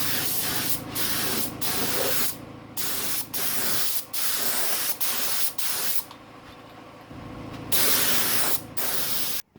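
Spray gun laying a colour coat onto a Ford ZK Fairlane engine bay, with repeated close, loud hissing bursts separated by brief pauses.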